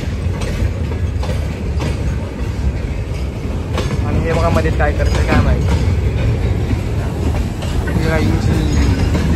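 Trains, including Mumbai local and freight trains, rumble through a station with steady rolling clatter and occasional wheel squeal, close and loud, while people talk over the noise throughout.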